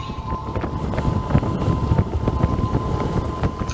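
A motorcycle rides along a road through green countryside near Susukan, Banjarnegara, its engine a steady low drone buried under heavy, buffeting wind noise on the microphone.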